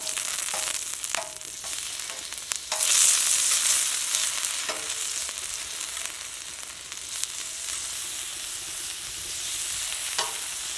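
Vegetables sizzling and frying on the hot inner section of a camp cooker outdoors, a steady crackling hiss with occasional stirring scrapes and clinks, close and continuous throughout.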